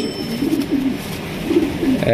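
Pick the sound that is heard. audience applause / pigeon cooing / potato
pigeon cooing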